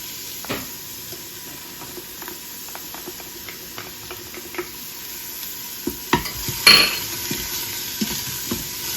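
Garlic sizzles quietly in an Instant Pot on sauté, a faint steady frying hiss broken by scattered clicks and scrapes of stirring, a louder clatter of utensil against the pot late on.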